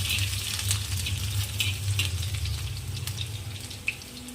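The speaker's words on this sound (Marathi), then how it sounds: "तेल तापाला ठेवलं आहे त्यामध्ये आधी आपण लसूण ॲड करू थोडासा परतून घेऊ" Garlic fries in hot oil for a green chilli fry, giving a continuous close sizzle with occasional sharp pops and spatters.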